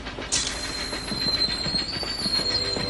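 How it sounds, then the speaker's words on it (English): A train slows down, with a steady rumble of wheels on rails, clickety-clack rhythm and a thin high squeal running through, continuous and fairly close, with no voices. "The pressure is dropping. The train is slowing down."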